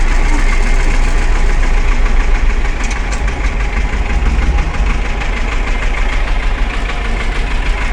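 A tractor engine runs continuously while digging up potatoes in a field. The close, loud, steady chugging rumble barely changes in level throughout, and no one speaks.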